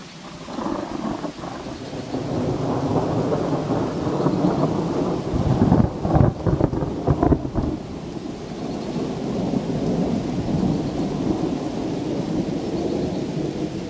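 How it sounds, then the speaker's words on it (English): Thunder rolls and cracks through a heavy rainstorm, loud and close, with a rumbling surge in the middle over constant hissing rain. "Some crazy thunder."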